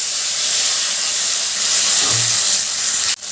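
Onion and tomato paste dropped into hot oil already frying whole spices such as cinnamon and cardamom, giving a loud, steady, close sizzling hiss that holds throughout and cuts off abruptly at the end.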